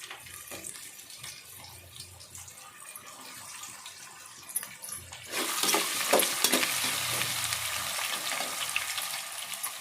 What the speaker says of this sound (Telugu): బంగాళదుంప క్యారెట్లు పచ్చిమిరపకాయలు వేసుకుని కొంచెం సేపు వేగనివ్వాలి